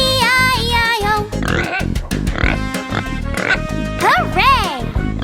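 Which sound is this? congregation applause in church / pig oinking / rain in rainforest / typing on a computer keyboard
pig oinking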